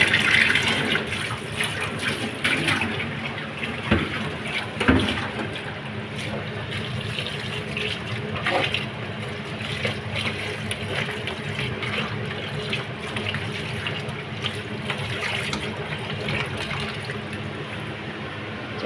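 Rice for beef Peshawari pulao is washed under running water, giving a steady close splashing and trickling with occasional louder sloshes and clunks throughout.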